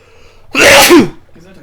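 One sharp, loud sneeze from a person, close and brief, against quiet room background.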